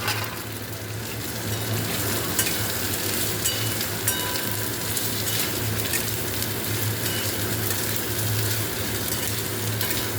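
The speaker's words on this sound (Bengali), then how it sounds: "এবারে আমি আলুগুলো এর মধ্যে দিয়ে দিচ্ছি।" Potatoes fry and get stirred in a hot pan for muri ghonto, a continuous close-up sizzle with scraping movement over a low steady hum, with no voices.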